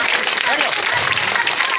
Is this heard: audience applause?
yes